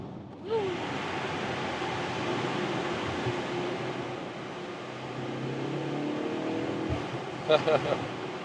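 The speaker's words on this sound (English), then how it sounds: "with the rain you hear probably more rain noise than the exhaust" Steady rain hiss fills the cabin of a BMW M135i with its window lowered, while the 300-horsepower car's exhaust murmurs faintly underneath and a person talks over it.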